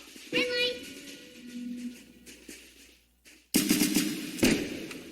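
Rapid bursts of gunfire from a Roblox Squid Game round, loud broadband cracks erupting in the second half after a voice and game sounds, with speech heard earlier in the clip.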